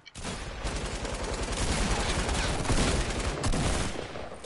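Dense, continuous automatic gunfire in the video game Fortnite, a loud rapid burst of overlapping shots that sustains for several seconds with a brief break near the end.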